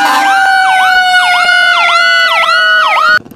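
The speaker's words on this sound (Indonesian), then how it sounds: "Wow, pemadam kebakaran, Roman." A toy fire engine's electronic siren wails in a repeating up-and-down pattern, loud and close, cycling about five times before cutting off abruptly.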